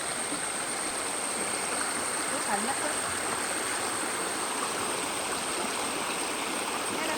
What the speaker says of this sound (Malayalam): നല്ല വെള്ളം നല്ല ഇത് ആറാണ്